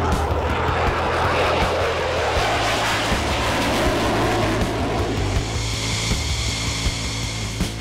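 Loud, continuous roar of a Republic of Singapore Air Force F-16 fighter jet passing overhead, a broadband rumble sustained throughout with no voices.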